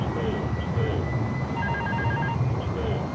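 A cockpit phone rings in a flight simulator game during a flight from Trivandrum to Kochi, with repeated electronic ring tones over a steady low engine drone.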